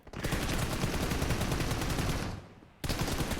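Rapid automatic gunfire in PUBG Mobile during an 8vs8 mode match, a dense sustained burst that briefly drops off near the end before firing resumes loudly.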